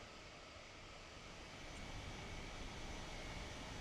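Steady roar of Boeing 707 airliner engines in Microsoft Flight Simulator, a continuous broadband drone that swells slightly louder midway, with no talking.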